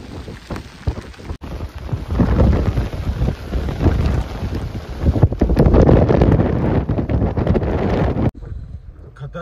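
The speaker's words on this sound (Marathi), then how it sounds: "आम्ही इथे भिजतोय पावसामध्ये." Heavy rain with gusting wind buffeting the microphone and rumbling thunder outdoors at a windmill garden in Devgad, Sindhudurg, a loud continuous roar that surges and drops before cutting out near the end.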